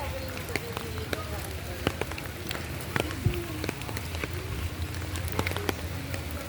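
Rain pattering on an umbrella in an eco park lined with acacias and palms, scattered soft taps and drips close overhead against a constant wet hiss.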